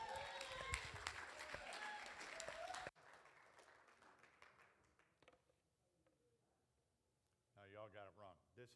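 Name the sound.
audience applause for speaker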